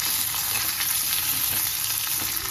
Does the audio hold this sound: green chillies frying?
yes